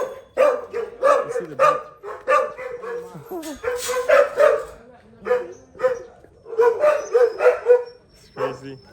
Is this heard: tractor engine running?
no